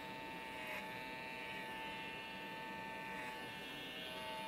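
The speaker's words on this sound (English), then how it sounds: "I love this other trimmer, and I use it a lot" Electric hair trimmer running steadily on thick hair during a long trim haircut, a continuous close buzz with faint changes in load and no talking.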